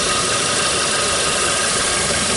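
A stock 2010 Seat Ibiza Cupra's 1.4 TSI 180 hp engine idles steadily, a smooth, even hum with a faint belt whir, close by and constant with no one speaking.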